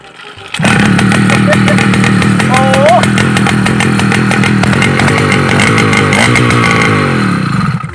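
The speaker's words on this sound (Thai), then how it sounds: "เดี๋ยวฟังเสียงท่อทุกคนเสียงอาจจะดังไม่รู้ว่าดังหรือเปล่าเนี่ยลองดู" A 49cc motorized bicycle engine with a loud straight exhaust and stainless filter tip roars to life after a short pause, then holds a harsh, buzzing, close-up drone with rapid rasping pulses until fading slightly at the end.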